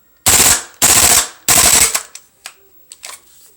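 A KWA Kriss Vector gas airsoft gun fires on full auto in three loud, close bursts of rapid rounds, each about half a second long, followed by a few softer clicks and taps.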